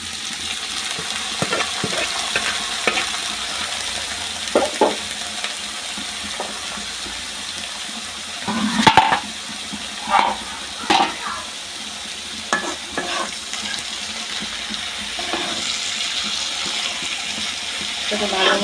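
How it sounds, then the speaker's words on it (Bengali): Bottle gourd leaves fry in oil with already-fried onions, a steady close sizzle broken by scraping stirs and clattering spoon knocks against the pan, with no talking. "এখানে আমি লাউ শাক ঢেলে দেব।"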